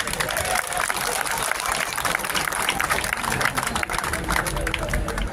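A large audience claps loudly and continuously at a Mahaparinirvan Din gathering at Chaityabhoomi, a thick unbroken roar of applause with a voice faintly mixed in.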